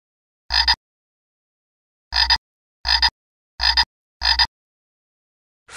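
A frog croaking in the Vocal Zoo mobile game, five short loud croaks alone in silence, one then a pause before four more in an even rhythm.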